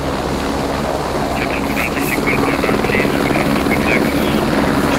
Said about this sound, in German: Ich verstehe erstmal nichts wegen dem Hubschrauber in der Nähe.